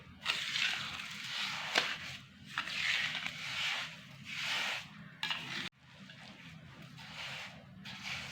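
Sugar being stirred into fresh lemon juice with a spoon gives repeated gritty scraping and rubbing strokes, fairly close and steady, with brief pauses between bursts.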